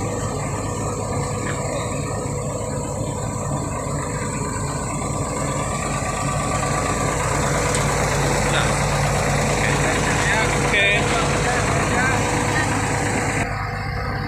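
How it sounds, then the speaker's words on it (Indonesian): A bus engine drones steadily as the vehicle moves off, with constant low rumble and road noise throughout and a few brief spoken words over it. "bus sudah mulai melanjutkan perjalanan"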